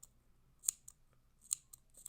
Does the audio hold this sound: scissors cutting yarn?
yes